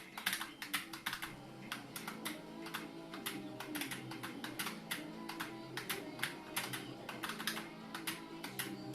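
A stylus taps quickly on an XP-Pen Deco Fun drawing tablet, a faint, close run of sharp clicks in irregular bursts over a quiet background hum.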